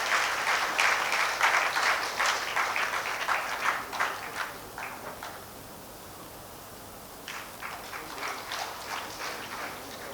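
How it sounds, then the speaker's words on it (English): Audience applause fills an alumni awards ceremony hall, steady and moderately loud at first, fading away midway, then returning more softly as a second round of scattered clapping. "request everybody to applaud him"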